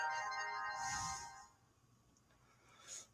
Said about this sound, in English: Phone's making noise.